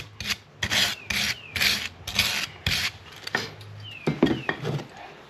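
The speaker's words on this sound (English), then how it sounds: "brush off all that dirt underneath the C-clip" A brush scrubs dirt from under the C-clip on a Toyota Tacoma's lower ball joint area, giving a series of close, repeated raspy bristle strokes in quick bursts, with no speech.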